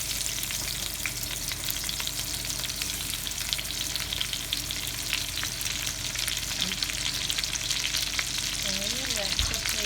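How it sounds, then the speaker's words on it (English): Onions sauté in a pan for string beans adobo, making a soft, even sizzle that runs steadily throughout, with a faint stirring sound near the end and no speech. "let's saute the onions"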